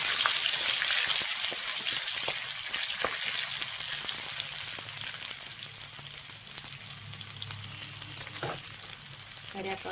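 Onions frying in hot oil alongside toasted cashews, a steady close sizzle with scattered crackles and soft stirring, continuous throughout without talk.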